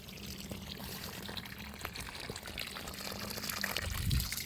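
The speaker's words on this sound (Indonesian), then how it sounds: "ini kita siramnya tidak terlalu basah banget ya" Water is poured onto the soil around an avocado tree to dissolve NPK 16-16 fertilizer, a soft steady trickle and splash close by, with no voices.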